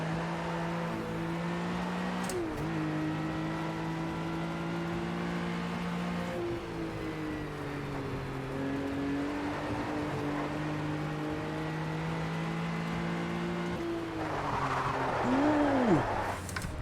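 Engine of a Porsche race car in a classic touring car multi-class endurance race video game, a steady sustained drone with pitch shifts as it revs and changes gear, loud and continuous throughout, rising at the end.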